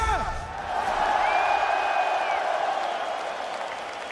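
A Manchester arena crowd at an MMA fight event applauds and cheers in a steady, loud roar with whoops and a whistle rising above it, while voices carry through the noise.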